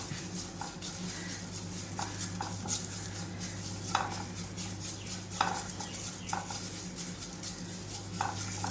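Curry leaves dry-roasting for sambar powder in a pan, with soft rustling scrapes and light clinks of a stirring spoon recurring every second or so over a faint sizzle and a low steady hum.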